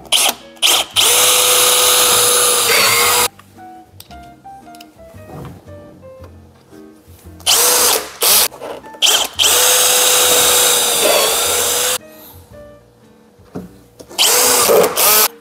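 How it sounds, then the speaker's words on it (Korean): Power drill boring pilot holes for screws in a cabinet panel: several loud whirring bursts of a few seconds each, separated by quieter pauses with faint handling noises, close up and without talking. "위치 표시가 끝났으면은 피스길 작업을 하겠습니다."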